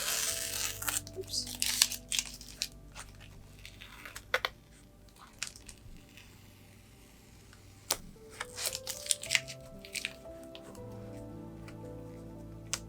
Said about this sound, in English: removing all of the washi tape